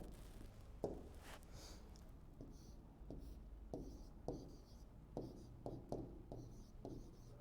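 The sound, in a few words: writing by hand on a drawing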